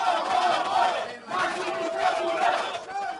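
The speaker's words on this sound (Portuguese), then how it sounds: "Os manifestantes contrários a Lula aumentaram as vaias" Protesters booing former president Lula at an airport, a swelling chorus of crowd voices jeering in loud surges, dipping briefly midway before rising again, with chatter mixed in.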